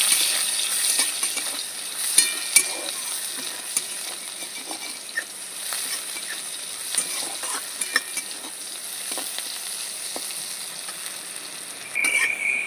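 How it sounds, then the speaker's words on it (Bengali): Chopped onion sizzles steadily in hot oil for a rohu fish kalia, with a constant bright frying hiss and occasional clicks and scrapes of a spatula against the pan. "কুচিয়ে রাখা পেঁয়াজ দিয়ে দিচ্ছি পেঁয়াজটা একটু লাল করে ভেজে নেবো"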